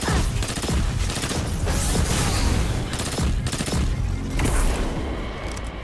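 A war mine blowing up amid gunfire in Destiny 2, with dense booming blasts and rapid shots layered together, loud and continuous, and no talk.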